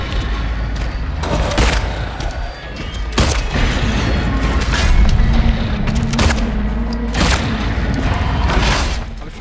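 Gunshots fired at Pyramid Head in the Silent Hill 2 Remake ring out as several loud, sharp bursts at irregular intervals over a dense, rumbling background of game sound.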